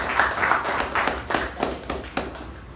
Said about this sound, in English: Let's give a huge round of applause for our table topic master for the day